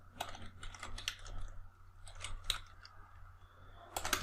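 Someone typing code on a computer keyboard: irregular clusters of light, close keystrokes with short pauses between bursts, quiet and alone.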